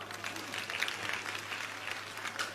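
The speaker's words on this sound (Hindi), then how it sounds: "ताली बजाओ।" A crowd at a religious discourse applauds in a dense, steady wash of clapping, moderately loud and continuous, with a faint hum underneath.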